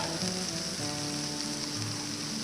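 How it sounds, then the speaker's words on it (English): A smashburger patty sears on a Blackstone griddle, giving off a steady, loud, even sizzle and crackle that fills the whole stretch with no talking. "when we pressed it down, we seared the one side of the burger"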